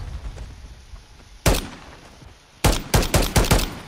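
Gunfire in Call of Duty: a single sharp shot, then a rapid burst of five or six loud close cracks over faint background noise.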